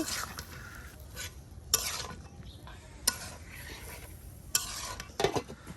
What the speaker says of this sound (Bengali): এখন সবজিগুলি সুন্দর করে মশলার সাথে মিক্সড করে দেওয়া হচ্ছে